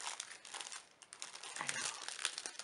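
Wrapping paper crinkles and rustles continuously while a summer scrapbooking swap package is opened, close and soft, with no speech.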